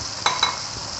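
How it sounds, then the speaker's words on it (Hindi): Masala spices frying in a pan for a potato and broad bean dish, a steady sizzle broken by two quick scraping stirs close by. "मसाला को हमने तकरीबन 5 मिनट तक फ्राई करना है"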